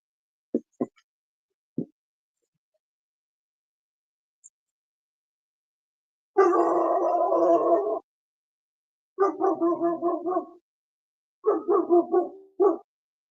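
A dog gives a few short, sharp barks, then after a pause three longer bursts of rapid, rough barking at medium distance, with silence between the volleys and no talking.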